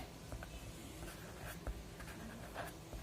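Pen strokes write a sentence for a Hindi-to-English grammar lesson, a close, quiet scratching of short repeated strokes and taps with small pauses between words, running steadily throughout.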